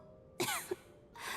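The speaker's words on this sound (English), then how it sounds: "How long have you had that cough, Tonya?" A Genshin Impact character lets out a short double cough, close and fairly loud, followed by a burst of breathy noise.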